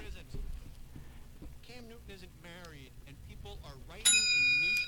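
A quiz show bell rings out as a sharp bright ding near the end, cutting in after people talk over a high school academic challenge radio broadcast.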